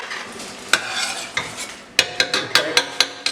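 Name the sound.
stirring chicken dhansak curry in the pan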